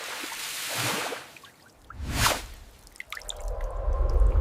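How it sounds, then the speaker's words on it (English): Water rinses years of dirt off an abandoned 2015 McLaren 570S Coupe, with splashing, dripping bursts and a loud whooshing spray that swells, pauses, then returns close and strong. "Years of dirt and neglect were finally being washed away from this abandoned 2015 McLaren 570S Coupe"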